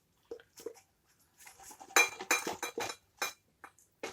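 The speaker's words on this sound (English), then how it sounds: "I'm going to give this a really good mix." Rye sourdough starter being stirred vigorously in a container on a scale, with quiet scraping and clinking of the utensil against the sides in irregular bursts that grow louder midway.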